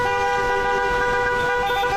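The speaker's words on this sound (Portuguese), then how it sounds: "vários condutores de veículos buzinavam em apoio aos empresários" Car horns honk in support of business owners at a street protest in Espírito Santo, Brazil. Several steady, blaring horn tones overlap continuously and loudly, with traffic noise underneath.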